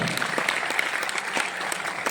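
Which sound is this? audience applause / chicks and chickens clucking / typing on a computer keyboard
audience applause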